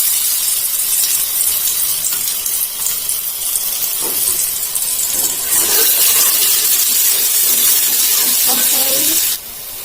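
Ground spice paste sizzles loudly in hot frying oil for cassava dish, a steady bright hiss that swells slightly mid-way and drops near the end, with faint voice underneath.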